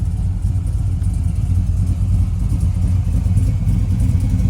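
A 1972 Chevrolet Chevelle engine runs steadily with a deep, even rumble, close by and unbroken, no voices.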